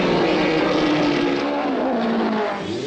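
Formula One race car engine screaming in the pit lane, a loud, continuous high-revving roar with a pitch that shifts slightly as it holds steady for the whole stretch.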